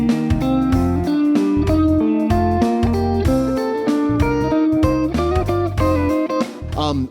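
Guitar finger-independence exercise with held notes ringing under a moving line, creating a dual-melody effect; steady, close and continuous, with dense overlapping notes and no talking.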